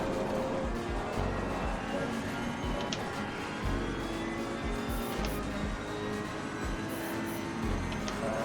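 A race car engine in a sim racing video game drones continuously with shifting revs and engine braking, dense and steady throughout with occasional brief tire noise, no talking.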